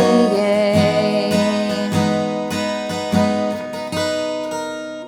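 An acoustic guitar plays the intro of a song, a run of plucked chord arpeggios with ringing open strings, close and clear, the notes moving in a steady unhurried rhythm with no voice.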